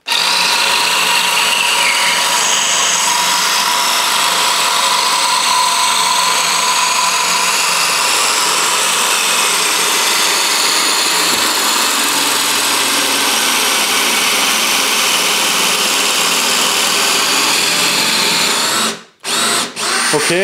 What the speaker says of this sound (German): Ich möchte ihn jetzt quasi bis auf 18 mm runter hobeln oder schleifen.